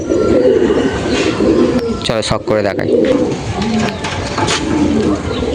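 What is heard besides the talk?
Madras pigeons cooing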